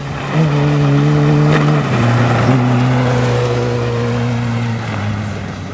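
A Suzuki GSX-R 750 motorcycle ridden on ice, its engine note rising and falling in pitch as it revs and shifts through several changes, loud and close throughout with no talk.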